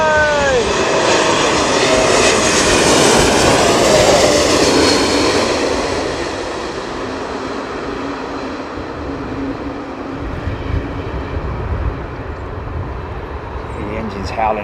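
Embraer E195-E2 airliner jet engines howling loudly at Heathrow Airport during stormy weather, a sustained broadband roar with whining tones that peaks early and then settles to a steady lower rumble.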